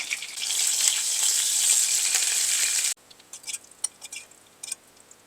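Mustard seeds and shallots fry in oil with a dense, bright sizzle that holds steady for about three seconds, then cuts off, leaving scattered crackles and pops from the pan.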